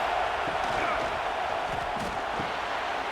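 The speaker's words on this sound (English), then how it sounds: "This crowd is trying to inspire this defense to make a big red zone stop." Stadium crowd roar from the College Football 26 video game during a Texas A&M vs Notre Dame red zone stand, a steady, loud wash of cheering and noise that holds evenly throughout, with faint commentary beneath.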